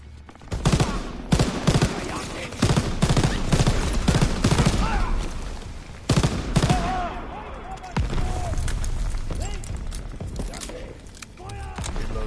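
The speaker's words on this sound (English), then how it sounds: "Artillery's hitting the beach!" Artillery and gunfire crack and boom across a beach in the Call of Duty WWII video game, with dense bursts of shots and heavy impacts under shouting voices throughout.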